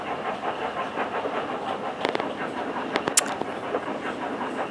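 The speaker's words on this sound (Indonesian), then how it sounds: "Ya guys, itu kereta apinya guys. Itu kereta api guys." A train passes in a video game with a steady rolling rumble and a few sharp metallic clicks and clanks, loud and close, with no talk over it.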